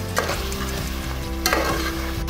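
Beef pieces fried with spices in a pan for aloo gosht, a steady sizzle under two sharp stirring scrapes of a spoon, close and continuous with no talking.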